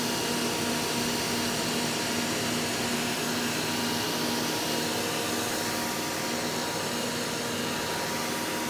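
An AVA pressure washer fitted with a 25-degree nozzle rinses a surface with a steady, dense hiss of spraying water and a motor drone underneath, loud and unbroken throughout.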